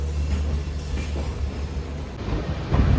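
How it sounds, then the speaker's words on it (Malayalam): A passing train rumbles alongside a moving train in Kerala, a deep continuous roar with rattling wheels, close and steady, ending in a rising burst of noise. "നമ്മുടെ ട്രെയിനിനെ മറ്റൊരു ട്രെയിൻ പാസ് ചെയ്യുന്ന അതിമനോഹരമായ കാഴ്ചയാണ്."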